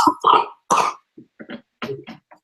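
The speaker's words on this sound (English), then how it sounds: "Sorry, I'm coughing." A man who is sick coughing, several harsh bursts close to the mic, two strong coughs followed by a string of smaller hacking coughs and throat clearing.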